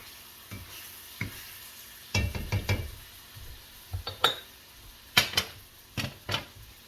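A cast iron skillet of browning meat for biscuits and gravy is shifted partly off a stove burner, making scattered metallic clanks and scrapes over a low, steady sizzle, with no talking.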